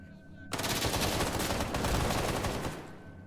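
In Stalker GAMMA, a dense burst of rapid automatic gunfire crackles for about two seconds after a quiet start, then fades.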